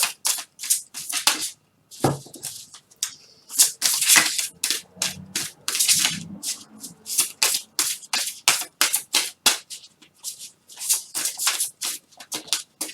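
Gaia oracle cards are shuffled by hand in quick, crisp bursts of riffling and slapping, close and loud, with a short pause and some softer rustling partway through.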